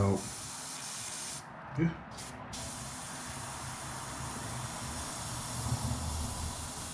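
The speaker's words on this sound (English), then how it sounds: "Just 2 drops at a time, just to make sure that it's gonna spray out." A steady, airy hiss of an airbrush spraying paint onto a fishing bait runs nearly nonstop at close range, with a brief pause early on and a single spoken word near the start.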